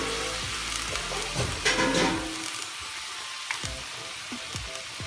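Water poured into a sizzling pan of potato and eggplant curry, a loud rushing hiss that dies into quieter bubbling simmer with light spoon clinks.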